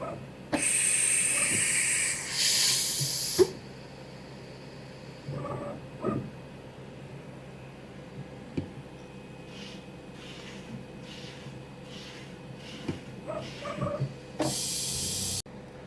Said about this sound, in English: we're going to repeat that process for all 5 tools that are in the machine to verify that each one of them can be grabbed